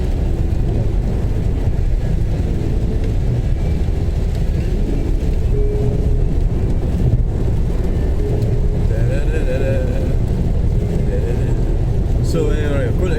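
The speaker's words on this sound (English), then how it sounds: "Look at all these trucks." Heavy road traffic with trucks rolls past in a constant, loud, broadband rumble, sounding like it is heard from inside a moving car near Stirling or Cumbernauld in Scotland.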